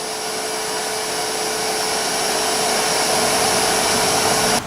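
A wood lathe spins while turning a Bradford pear root bottle stopper, giving a steady, loud whining hum with a constant high tone that runs unbroken until it cuts off at the end.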